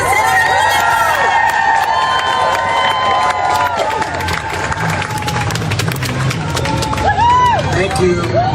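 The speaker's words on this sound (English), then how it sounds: "Let's give it up for Senator Blumenthal" A crowd cheering and applauding for a senator at a live event, loud sustained whoops, shouts and clapping close by throughout.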